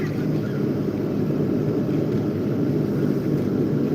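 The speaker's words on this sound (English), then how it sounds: "Land on the ground, you dumb chopper." Helicopter in the GTA 5 video game, a constant low rumbling drone that stays steady and loud throughout with no talking over it.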